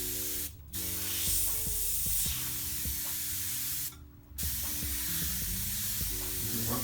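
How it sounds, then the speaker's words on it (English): An airbrush sprays paint in a close, steady hiss, cutting off briefly twice as the trigger is released and resumed, with a faint hum running underneath. "when you pull back, you get more paint, you get a wider spray"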